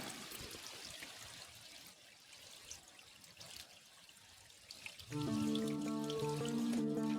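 Water pours and trickles down cemented concrete steps in a creek, a continuous close splashing wash that swells louder and fuller near the end, with no voices.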